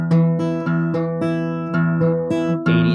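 A sustained musical tone at 329 hertz, double 165, sounds with repeated plucked attacks, bright ringing harmonics held steadily for a few seconds, alone.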